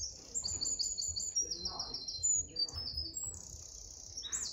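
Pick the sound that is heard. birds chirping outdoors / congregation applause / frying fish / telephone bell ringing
birds chirping outdoors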